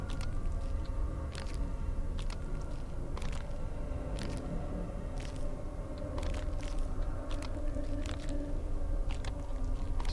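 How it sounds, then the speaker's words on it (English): Crunching footsteps from the horror game Doorways: Holy Mountains of Flesh, a steady stream of gritty, squelching crunches under a constant low rumbling ambience, with repeated brief sharp crackles over the full stretch. "Listen to the crunching under my feet."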